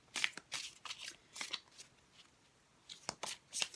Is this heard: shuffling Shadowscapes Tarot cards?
yes